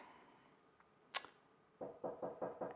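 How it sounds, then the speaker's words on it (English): Knocking at a home kitchen door: one sharp rap, then a rapid run of five loud, hollow knocks close by, with no talk. "There's the knock at the door."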